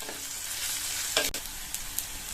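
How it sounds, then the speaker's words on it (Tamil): Onions sautéing in a pan with curry leaves and chillies, a steady close sizzle broken by a brief scrape of stirring and a couple of light clinks. "இந்த வெங்காயம் லைட்டா அதனுடைய கலர் மாறி வர வரைக்கும் வதக்கிக்கணும்"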